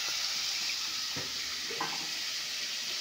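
Onions sizzling steadily in hot oil with salt and turmeric for an egg curry, a constant close hiss with a faint stir or two and no voices.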